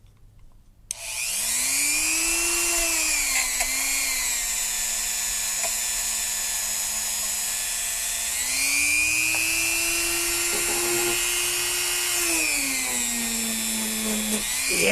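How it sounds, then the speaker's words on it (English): A Dremel rotary tool cleaning a ring starts up and whines steadily at high speed, close and loud, its pitch dipping and rising as it presses into the metal. "Now let's go ahead and use that Dremel"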